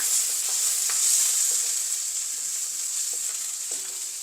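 Steady frying sizzle of onions and garlic sautéing in a pan, with occasional light scrapes and clinks of a utensil stirring; no talking.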